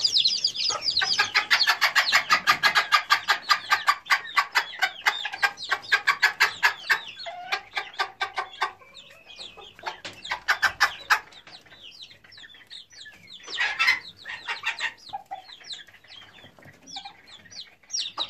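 A hen and her chicks cluck and peep rapidly while pecking at chopped lahmacun, a dense close burst of calls early that thins into scattered clucks and chirps.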